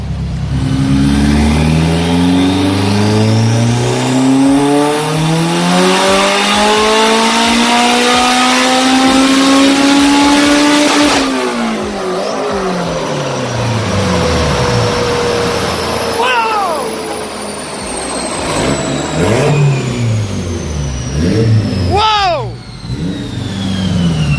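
A 700HP Honda S2000 engine screams through a tuning run, its loud rising rev climbing steadily before cutting off abruptly, then shorter revs and whooshing follow, with voices faintly under the noise.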